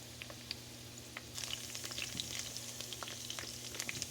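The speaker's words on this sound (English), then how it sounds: "in a cast iron skillet on the stove" Fondant potatoes sear in a cast iron skillet on the stove over medium-high heat, a quiet steady sizzle with scattered pops and crackles that grows a little busier partway through.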